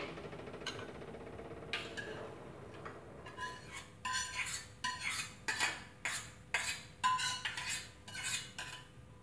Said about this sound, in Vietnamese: Bây giờ mình đổ bo bo ra cái rây này cho nó ráo nước.